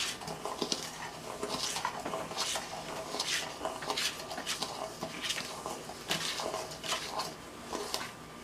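Donut batter for OC sand donuts is stirred in a bowl, giving steady soft scraping and clinking of a utensil against the bowl over continuous light background noise.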